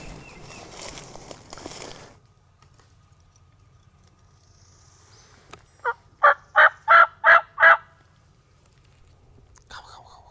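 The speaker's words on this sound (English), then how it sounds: "Bird starts gobbling" A wild turkey gobbles five times in quick succession, loud and fairly close, on a Florida public-land turkey hunt at early morning. Soft whispered talk comes earlier, then near silence before the gobbles.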